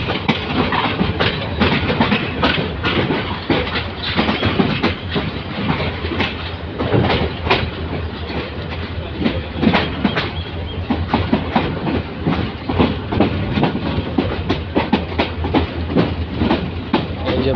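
A mail train rolls into Kamalapur railway station in Dhaka, its wheels clattering in a loud, continuous clickety-clack across the platform with scattered metallic knocks throughout.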